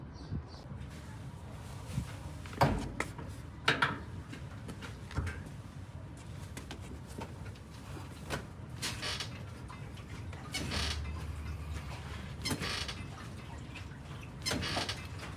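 Ratchet straps tug on the bent front apron of a 1967 VW Type 3 Squareback, giving irregular creaks, clicks and metallic strains, a few sharper knocks standing out against quiet workshop background.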